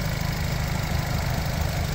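A Nissan NV200 van's 1.6-litre engine idles steadily, a close, constant low rumble with an even hum and no breaks or voices.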